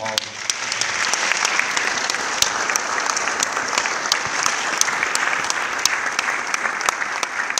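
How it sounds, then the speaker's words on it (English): An audience at an all-regional band event applauds the band directors with sustained, even clapping, a few sharper claps standing out near the front, with murmured voices under the applause. "let's give all of them a round of applause"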